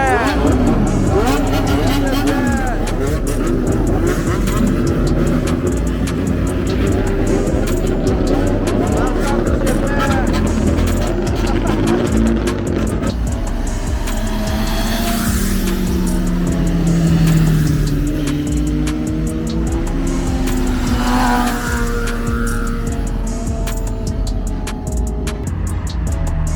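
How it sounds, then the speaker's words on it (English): A Mazda RX-7 engine at a car meet in Kobe, Japan, loud and close, droning and revving with rising and falling pitch while people talk over it. "Mazda RX-7"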